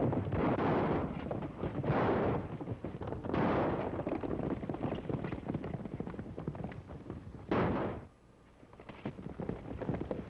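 Loud, rough booming bursts of gunfire echo at regular intervals in an old 1934 serial, five heavy volleys with short gaps, the last cut off abruptly into quieter background hiss.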